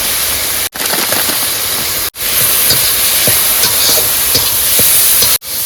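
Turmeric powder, cumin powder, coriander and chopped chillies fry in a small amount of hot oil on a boat, making a loud, steady close-up hiss and sizzle broken by a few abrupt gaps.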